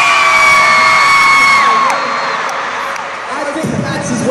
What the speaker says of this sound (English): Can you please cheer if you like Gino's?